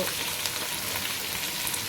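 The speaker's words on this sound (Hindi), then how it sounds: "इसलिए अब हम इसमें यखनी बनाने के लिए पानी डाल देते हैं।" Browned chicken frying in a pot for haleem, a steady, fairly quiet broadband sizzle with no speech.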